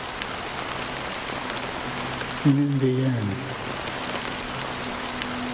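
Steady rain falls in the video game Honkai Star Rail, a constant hiss of drops on surfaces throughout, with a voice speaking briefly over it midway.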